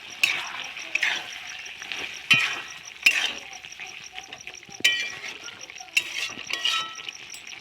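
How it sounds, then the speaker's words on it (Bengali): Vegetables and ground mustard paste being stirred in a cooking pan, with repeated scraping and clacking of a spoon against the pan over a low bubbling simmer, close and moderately loud. "তো সর্ষে বাটা দিয়ে একটু নেড়ে চেড়ে কিছুক্ষণ রান্না করে নিলেই আমার এই সবজি একদম রেডি"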